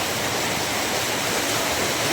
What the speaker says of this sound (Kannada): ಗಾಯ್ಸ್, ತುಂಬ ನೀರು ಹರಿದು ಹೋಗಿದೆ.